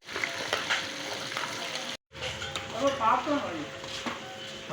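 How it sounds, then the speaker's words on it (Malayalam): Chicken pieces frying in oil for dum biryani at a hotel kitchen, a close continuous sizzle with stirring and scraping, a short break midway, and a voice talking over it. "ഇങ്ങനെ ചിക്കൻ ഇങ്ങനെ പൊരിച്ചുകൊണ്ടിരിക്കുന്നുണ്ട്"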